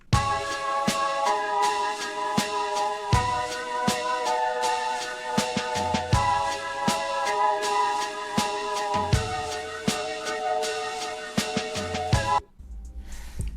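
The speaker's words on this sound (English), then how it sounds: "all of these extra elements like the organ, the drum kit, and this AI generated choir sounds like this." A vintage soul and gospel style sample layers an AI-generated choir with organ and a drum kit. Sustained chords run over a steady beat for about twelve seconds and then cut off to a faint tail, with no talking.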